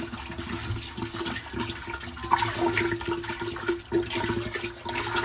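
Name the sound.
water poured into pot for chakhchoukha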